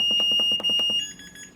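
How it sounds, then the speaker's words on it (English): A malfunctioning Maytag Neptune washing machine control panel sounds loud, rapid electronic error beeps in a quick series, then shifts to a different, higher repeating tone as it fades slightly. "It's not supposed to be doing this beeping."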